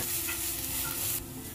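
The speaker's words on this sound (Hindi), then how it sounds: "इसको भी अच्छे से हम ये भून लेंगे 3 से 4 मिनट तक" Grated carrot sizzles in ghee in a pan with a steady frying hiss, joined by a soft scrape of stirring.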